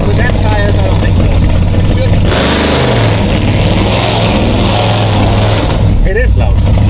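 A modified truck running on E85 fuel roars loudly and steadily up close, its deep engine note swelling once in the middle before settling back, while voices talk over it.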